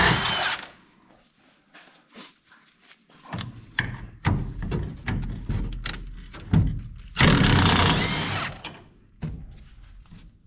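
An impact-style power tool backs a leaf spring bolt out of a Ford F-150 rear axle in a garage, firing in several short bursts with pauses, then one longer loud run near the end.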